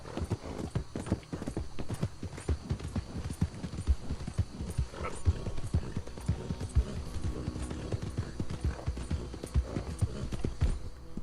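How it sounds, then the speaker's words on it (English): Horse hooves clip-clopping in the Red Dead Redemption 2 video game, a steady, fairly close run of rhythmic hoof beats continuing throughout the clip. "Hope I never have to be on that horse again, dang animal."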